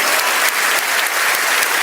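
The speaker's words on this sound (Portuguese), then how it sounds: "Um aplauso para você." Dense, loud applause from a live audience at a motivational talk, a continuous wash of many hands clapping close and steady throughout, with no voices over it.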